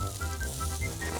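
Chunks of shashlik meat sizzle over a grill in a steady, close hiss with soft crackles, with no talk over it.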